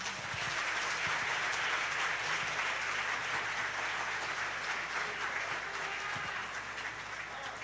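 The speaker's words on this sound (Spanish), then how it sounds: "Denle un aplauso al Señor." A church congregation applauding during a sermon, a broad steady wash of many hands clapping that stays fairly even for several seconds, heard from a moderate distance and somewhat soft.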